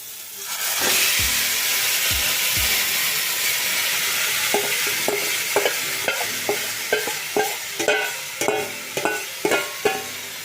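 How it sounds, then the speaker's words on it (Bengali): Marinated chicken hits a pan of softened, browned onions with a loud burst of frying sizzle, then a steady hiss broken by regular stirring scrapes and clinks toward the end. "এখন আমি এর মধ্যে দিয়ে দেব ম্যারিনেট করে রাখা চিকেনটা"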